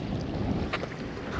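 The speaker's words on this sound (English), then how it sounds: "especially in windy conditions like we have today." Wind gusting across a quarry during a night fishing trip, a soft, steady rush buffeting the microphone with faint low rumbling and no talk.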